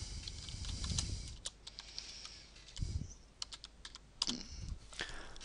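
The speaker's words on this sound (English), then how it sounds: "And that's by just typing directly into that box here." Close, quiet typing on a computer keyboard, with irregular clusters of light key taps and a few separate clicks, no talking.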